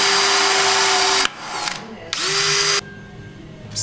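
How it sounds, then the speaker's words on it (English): Power drill boring a dowel pin hole during a Crown Vic F100 truck build: loud, close high-pitched whine in two sustained bursts with a brief pause between, the motor spinning down and back up, no talking. "So now we can go ahead and start drilling this thing out"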